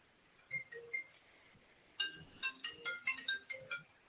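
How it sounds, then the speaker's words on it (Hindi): An incoming call sets off a phone ringtone, a faint chiming melody in two bursts: a few spaced notes, then a quicker run of tones. "उम्मेद सिंह क्यों फोन कर रहा है?"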